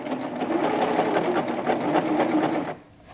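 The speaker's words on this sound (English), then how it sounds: "now I'm going to serge up to where my pins are at, and I'm just going to serge it a little bit there" A serger sewing machine stitches along a fabric edge with a steady, fast mechanical whir and a rhythmic chatter. It runs continuously and close by, then stops abruptly near the end.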